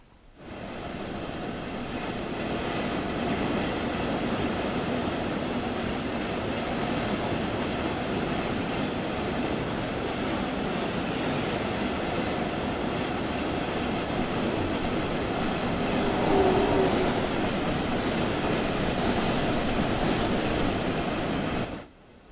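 A train runs continuously on the Dresden route in Train Sim World 2, a steady loud rumble of wheels and rails with a slight swell near the end and no talk.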